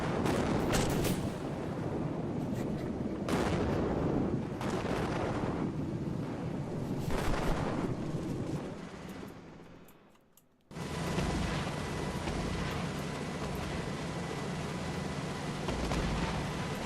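Multi-launch rocket system bombardment in the video game Cepheus Protocol, a string of heavy booming blasts rolling in succession, a brief near-silence, then a sustained roaring wash of distant explosions.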